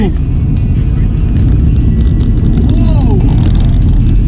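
Nissan car driving at about 30 km/h, a loud steady low engine and road rumble from inside the cabin, with faint voices and brief squeaks over it.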